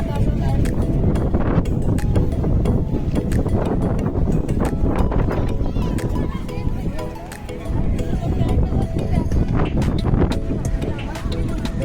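Strong wind at a river mouth blows sand, roaring as loud, rough buffeting against the microphone that barely lets up. Voices can be heard under the gusts.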